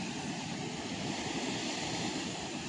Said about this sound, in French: Il y a les vagues.